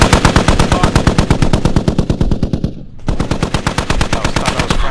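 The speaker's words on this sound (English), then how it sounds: "Stop shooting me." Loud, close machine-gun bursts in the military shooter Squad, a steady rapid rattle of shots with a short pause near the middle before firing resumes, no talking over it.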